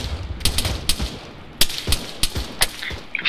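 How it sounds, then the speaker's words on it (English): Gunship gunfire from overhead air support in the military game ARMA 3: a string of loud, sharp cracks and bursts at uneven intervals, with booming low-end impacts over a steady background rumble. "It's a fucking gunship."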